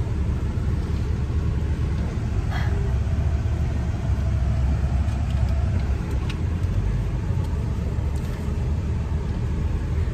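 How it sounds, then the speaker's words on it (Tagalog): A car rolls past on a road, a steady broadband engine and tire rumble that stays loud and close throughout, with no talking. "May sasakyan."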